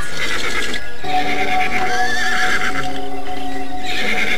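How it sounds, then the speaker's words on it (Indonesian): Restless horses in an audio drama, neighing and whinnying loudly several times in close succession, with some hoof clopping underneath and no talking. "Tetapi kuda-kuda mereka masih nampak demikian gelisah."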